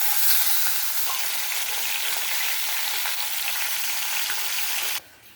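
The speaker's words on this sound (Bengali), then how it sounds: "প্রথমে আমি রুই মাছগুলো ভেজে নিই।" Rohu fish pieces frying in hot oil make a loud, dense, continuous crackling sizzle that cuts off abruptly near the end, leaving quieter hiss, with no voices.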